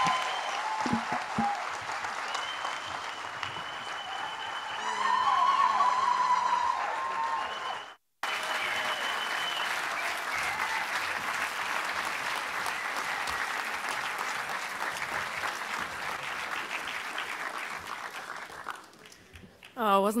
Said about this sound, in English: I'm going to ask us to give Melinda French Gates a resounding round of applause and even a ululation.